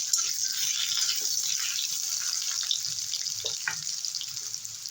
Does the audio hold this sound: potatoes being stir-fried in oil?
yes